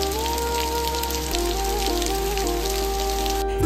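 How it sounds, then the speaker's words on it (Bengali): Heavy monsoon-style downpour on a morning in the Dooars, a steady dense hiss of pouring rain that runs the whole time, with faint sustained tones layered over it. "সকালে ঘুম থেকে উঠে দেখি একদম ঝমঝম করে মুষলধারে বৃষ্টি।"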